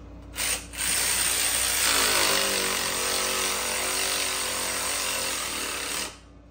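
A cordless ratchet gun whirs steadily for about five seconds while tightening exhaust bolts on a C8 Corvette during an AWE Touring exhaust install, a loud, close mechanical buzz with a short burst just before it.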